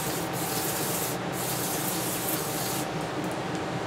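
Aerosol brake cleaner sprayed onto oily push lawnmower engine parts, a continuous loud hiss close by with brief dips where the spray stops and restarts.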